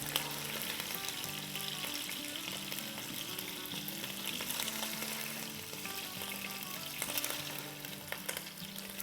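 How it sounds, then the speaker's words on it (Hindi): Chicken pieces frying in a pan alongside potatoes for pulao give a dense, continuous close sizzle with faint stirring and no speech throughout. "चिकन को फ्राई होते हुए ऑलमोस्ट 7 मिनट के आसपास हो गए"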